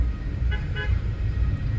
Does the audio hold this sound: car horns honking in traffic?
yes